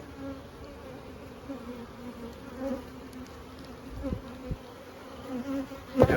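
Honeybees buzz around an open Langstroth hive during an inspection for swarming signs, a soft continuous drone of many insects with a few louder passes near the end.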